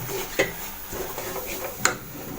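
Semolina being stirred into boiling sugar syrup in a pan for rava laddu, with soft scraping and a couple of sharp utensil clinks against the pan, close and fairly quiet.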